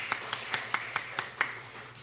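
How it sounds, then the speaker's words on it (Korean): Church congregation in a Korean Sunday service clapping to welcome newcomers: seven or so evenly spaced, crisp claps, moderately near, then fading to quiet. "감사의 마음을 담아서 우리 박수 보내드리도록 하겠습니다"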